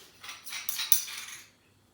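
Cutlery scrapes and clinks briefly against a bowl while crushed garlic, salt and pepper are mixed, a short soft burst of scraping with a couple of sharper ticks, then quiet.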